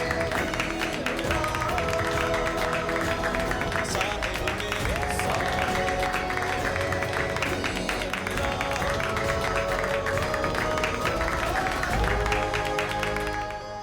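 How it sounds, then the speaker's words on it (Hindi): An audience applauds with dense, sustained clapping throughout, with tonal sounds such as music or voices running underneath. "बजाओ ताली, यही बचा था इस साल में करने के लिए।"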